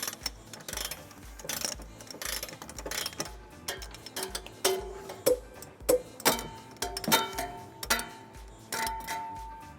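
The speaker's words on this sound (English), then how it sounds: "we're ready to tighten and torque all of them to the manufacturer's specification" Ratchet and socket clicking as bolts on a 2016 GMC Terrain trailer hitch are tightened with a 19mm socket, with bursts of close, rhythmic clicks and a few sharper metallic knocks, no talk.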